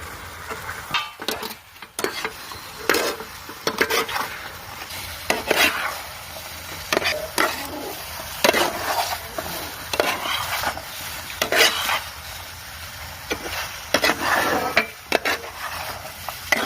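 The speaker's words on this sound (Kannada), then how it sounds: "ಇದಕ್ಕೆ ಫ್ರೈ ಮಾಡಿಟ್ಟ ಗೋಬಿನ ಹಾಕ್ತೇನೆ ನಾನು." Fried cauliflower for gobi manchurian being stirred in a pan: repeated scraping and clattering strokes at an uneven rhythm over a soft sizzle, close up and with no talk.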